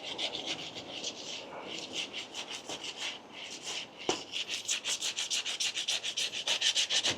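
Paint is hand sanded off a fiberglass car body panel in close, steady back-and-forth strokes, a raspy scraping rhythm that speeds into quick regular passes toward the end.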